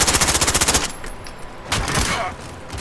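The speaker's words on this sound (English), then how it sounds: "Isn't that gun automatic?" Rapid automatic gunfire from a Call of Duty: Modern Warfare match, a loud burst of evenly spaced shots for under a second, then quieter scattered game noise and a few more distant crackles.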